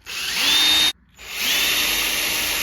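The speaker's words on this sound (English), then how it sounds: "It's nice to use a drill when you're dealing with these long screws." Power drill backing long screws out of an RC car body, two bursts of high whining motor separated by a brief stop, close and loud with no talking.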